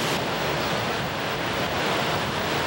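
Strong surf rolls in at a beach on the Australian coast, a steady, loud broadband wash of breaking waves with wind noise, alone with no voices.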